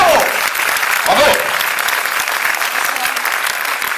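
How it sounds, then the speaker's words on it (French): Loud, steady applause from a film premiere audience in France, honouring an actress, continuous clapping filling the room with a brief voice or tone near the start. "Je voudrais que vous fassiez un tonnerre d'applaudissements pour la seule femme de cette équipe, mademoiselle Isabelle Tournaro"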